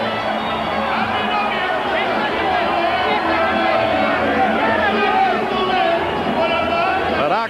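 Boxing fans at a Felix Trinidad vs Fernando Vargas fight roar for Vargas, a dense, sustained crowd din of cheering and shouting that stays loud and steady throughout, with no quiet gaps.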